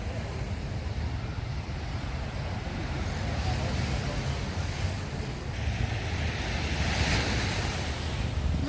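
Sea waves wash onto a dark-sand beach in Malaga as a continuous, rolling surf with gusts of wind buffeting the microphone.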